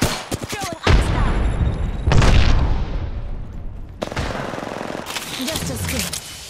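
Automatic gunfire from weapons in the battle royale shooter Apex Legends, loud, rapid bursts that repeat across the clip with brief pauses between volleys, a voice speaking over it.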